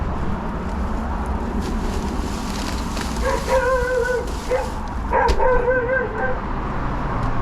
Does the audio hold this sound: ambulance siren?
no